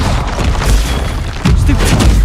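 Spell blasts from a Hogwarts Legacy duel, heavy booming impacts and crashes running continuously at close range, with a louder burst about midway.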